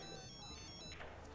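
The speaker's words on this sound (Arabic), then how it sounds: "موبايل" A mobile phone ringtone plays in a film scene, a bright electronic melody that stops after about a second, with voices underneath.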